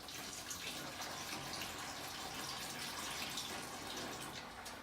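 Beef broth pours into a large pot of Irish stew that already holds Guinness, a steady soft splashing trickle that runs without a break, faint and with no one speaking.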